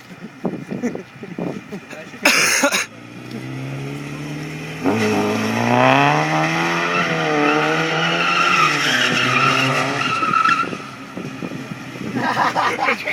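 A car drifting with its tires skidding gives a loud, rising and falling squeal that holds for several seconds and sits alongside engine revving, with voices and laughter before and after it.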